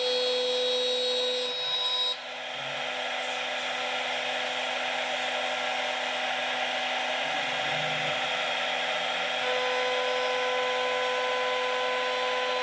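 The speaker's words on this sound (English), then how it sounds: "The first part of the milling is a 3D roughing pass, which removes as much of the material as possible" A CNC router runs a 3D roughing pass through a wood workpiece with a 1/2-inch round nose bit, giving a loud, continuous whine with a steady spindle tone over a constant rushing hiss of cutting and dust extraction.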